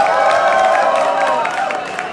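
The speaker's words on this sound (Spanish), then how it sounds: "Aplausos para la gala número 4," A crowd applauds and cheers for a drag gala performer at a queer festival closing in Bogotá, dense sustained clapping with whoops and shouts rising over it, loud and close.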